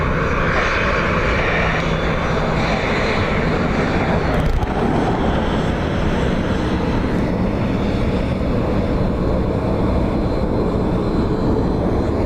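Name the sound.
Virgin Atlantic Airbus A330neo jet departing Dublin Airport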